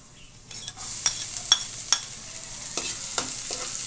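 Garlic fries in a hot pan for a chicken soup, a bright sizzle with sharp utensil clicks and stirring scrapes at irregular intervals, close and without talk.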